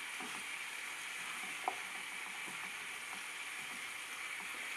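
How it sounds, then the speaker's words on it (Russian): Apples with sugar stewing in a frying pan, a steady soft sizzle running throughout with faint scraping clicks as the mixture is stirred, one sharper tap near the middle. "То есть они у нас тушатся как бы на сковородке."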